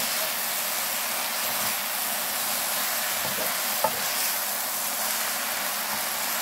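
Korean fish cake, eomuk bokkeum, stir-frying in a pan, a continuous bright sizzle and hiss with occasional scrapes and stirring knocks, close and loud, with no talking.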